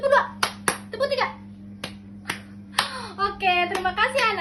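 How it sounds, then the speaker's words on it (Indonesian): Children clap their hands in time with a teacher's counting in a classroom, crisp claps landing in short groups between spoken counts, with a voice and kids' voices heard throughout. "Tepuk 1. Tepuk 2. Tepuk 3."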